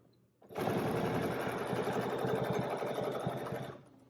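A domestic sewing machine runs steadily at high speed for about three seconds, free-motion quilting a curved feather spine, with a fast, even needle chatter, close and alone, starting and stopping abruptly.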